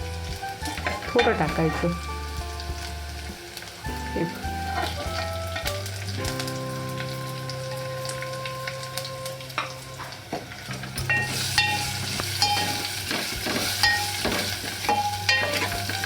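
Asafoetida tempering sizzles in hot oil for mango raita, a continuous close hiss and crackle with a brief spoken line near the start and some utensil clinks over the frying.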